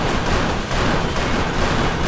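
Revolver gunfire from the car combat video game Death Skid Marks forms a dense, continuous roar of rapid shots over about two seconds, loud and unbroken.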